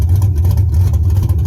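Chevy Silverado engine running on open headers with no full exhaust, a loud, deep, raw throaty rumble that stays steady and close throughout.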